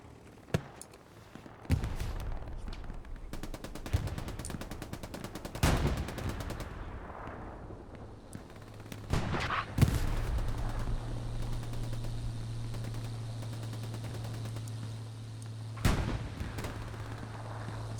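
Gunfights in Hell Let Loose on the Kharkov map, with sharp, scattered gunshots and bursts of machine-gun fire at varying distances over a steady low engine drone and distant rumbling blasts.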